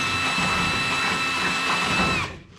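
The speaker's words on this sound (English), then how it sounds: "It's not too bad drilling that." A power drill whines at a steady high pitch as it bores through wooden decking boards on a small trailer, then winds down and stops.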